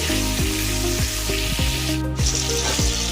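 Loud, steady sizzling of capsicum frying in hot oil, broken by several short scraping stirs at a regular pace.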